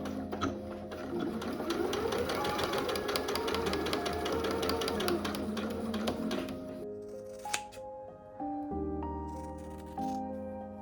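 A sewing machine stitches a dress sleeve to its cuff while making a vintage Vogue V9076 pattern dress. It runs steadily and close for about seven seconds, then stops, leaving a few soft clicks and a low hum.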